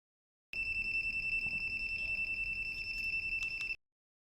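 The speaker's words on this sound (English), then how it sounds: "And the alarm is working normally." A steady, piercing electronic Honda vehicle alarm tone, tested through a 21-pin SCU with an SK TOOL 3 diagnostic tool, sounds continuously for about three seconds, then cuts off abruptly.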